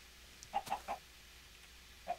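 A Minecraft chicken clucks in a few short, soft bursts: three quick clucks close together, then one more after a pause, over a quiet background.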